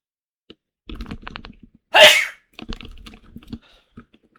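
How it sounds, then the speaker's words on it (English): One loud, sharp human sneeze bursts out in a quiet room. It is set between light, scattered clicks and taps like keyboard typing, with no talking around it. "Hold on, I feel a sneeze coming."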